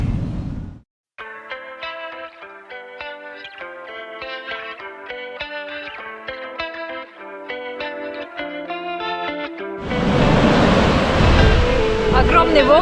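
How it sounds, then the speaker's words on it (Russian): Large ocean waves hit a big beach in Mexico. Music plays for most of the stretch, then a loud, roaring wash of surf takes over for the final few seconds. "Огромные волны, я не успела только зайти"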